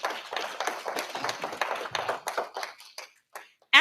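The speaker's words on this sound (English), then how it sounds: "Can we give another round of applause for that fabulous production?" Audience applause for a gala production at the ASC3 annual gala, dense clapping from a crowd that thins out into scattered claps and stops near the end.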